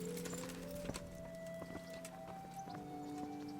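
Soft horse hoof clip-clops in the video game Kingdom Come: Deliverance plod along irregularly under a steady musical drone, with a few sharper knocks mixed in.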